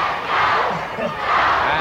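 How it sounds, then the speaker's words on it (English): Wrestling crowd chanting for Kevin Von Erich at ringside, a loud, sustained roar of massed voices that swells and dips in waves throughout. "listen to the crowd chant for Kevin"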